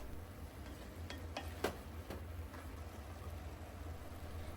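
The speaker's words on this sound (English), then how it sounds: "When cooked, again, just saute a little bit." Japanese keema curry sautéing in a pan gives a soft, steady sizzle with a few faint spoon clicks against the pan, quiet and continuous with no voices.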